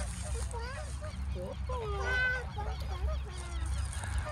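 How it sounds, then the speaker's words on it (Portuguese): Ducks or geese calling at a park, a few nasal honking and quacking calls rising over steady low background rumble, with people talking nearby. "esse aí eu acho que é marreco, ganso."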